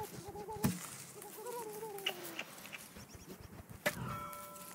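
Turkeys in the Don't Starve Together survival game give a few gobbling, clucking fowl calls at moderate level, with brief louder bursts over a busy game soundscape.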